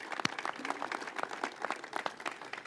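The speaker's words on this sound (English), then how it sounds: "They actually deserve a huge round of applause for all their terrific work to get us to where we are today." Audience applause at the Purple Line groundbreaking ceremony: brisk, moderately dense clapping from an outdoor crowd, steady and mid-distance for a few seconds.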